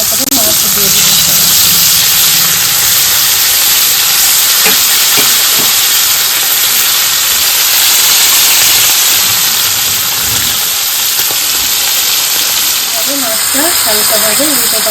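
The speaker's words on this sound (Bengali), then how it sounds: "এবারে কড়াইতে তেল দিয়ে দিব দিয়ে মাছটাকে একটু হালকা ভেজে নেব" Fish frying in hot oil in a wok, a loud, dense, continuous sizzle and hiss that fills the whole stretch, with occasional clinks and faint background voices.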